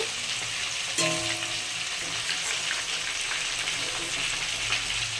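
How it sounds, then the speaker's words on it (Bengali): Potatoes sizzle loudly in hot oil in a kadai, a dense continuous fry close up with a sharp clink early on and stirring rustles throughout. "এই কড়াইতে আমি আলুটাও ভেজে নেব"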